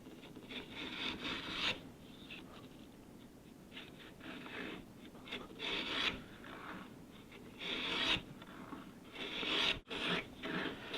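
A rabbet plane with a nicker scores and shaves wood in repeated rasping strokes, several passes of steady scraping friction rising and falling at close range, with no talking.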